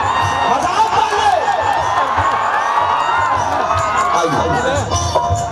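A large, dense crowd at a Khesari Lal Yadav stage show in Nepal cheers and shouts loudly and without a break. Whoops and children's shrieks rise above the steady roar.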